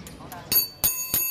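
Bicycle bell on a 1924 two-stroke motor bicycle rung three times in quick succession, bright metallic rings close by, preceded by faint softer taps.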